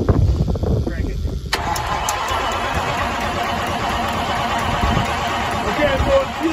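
An old Kenworth cabover truck with a Detroit engine, long sitting unused, is cranked at close range, then the diesel catches and settles into a loud, rough, steady run; a voice is heard briefly at the start.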